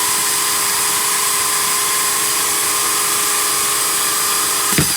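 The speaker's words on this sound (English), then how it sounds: "Let the saw do the cutting." A hole saw grinds through glass about three-quarters of an inch thick, giving a steady, unbroken high whine with faint ringing tones that runs the whole time and ends in a short knock.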